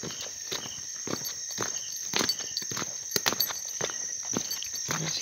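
A horse walks along a farm path at night, its hooves clip-clopping in a steady, fairly close rhythm over a constant drone of night insects.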